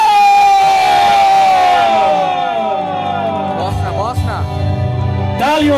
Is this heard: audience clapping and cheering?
yes